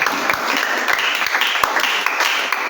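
Congregation clapping in a church service, a dense steady patter of many hands that fills the space at even loudness from start to finish.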